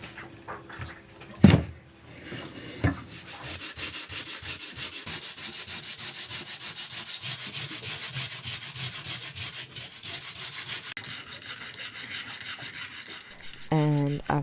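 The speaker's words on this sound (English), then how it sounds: "after a quick sanding" Hand sanding of windlass repair parts, a continuous rough rubbing scrape running steadily and fairly close, with a couple of sharp knocks near the start and a short voice near the end.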